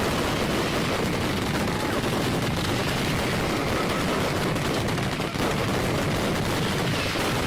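Loud, relentless crackling and banging from a daytime professional fireworks display in Italy forms a thick wall of rapid-fire detonations like gunfire, steady and unbroken apart from one brief dip, with no talking.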